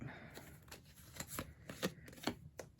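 Spirit Animal oracle cards are shuffled and cut by hand, a quiet close run of soft riffling slaps and papery flicks in an uneven rhythm, with no talking over them.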